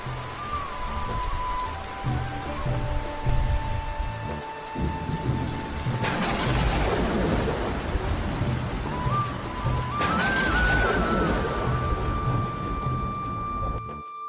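Rain pattering steadily on a surface in a Motu Patlu cartoon, with faint thunder rumbling and musical tones playing alongside.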